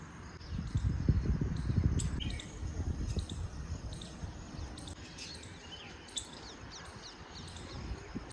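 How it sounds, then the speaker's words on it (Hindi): Birds chirp and tweet in scattered high calls in the early morning over a steady low rumble, fairly faint and continuous throughout. "सुबह सुबह इतनी बड़ी चिड़ियों की आवाज़ आती है"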